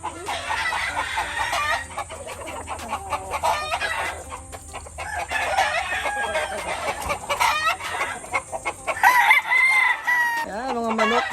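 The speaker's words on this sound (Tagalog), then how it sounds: "Yan, mga manok." A flock of farm chickens clucks and chatters up close, with roosters crowing several times and a loud crow rising near the end, the birds constant throughout.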